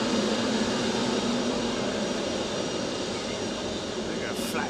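An airliner arriving close overhead at Manchester Airport, undercarriage down, makes a loud, steady, broadband jet roar that fills the whole stretch without let-up.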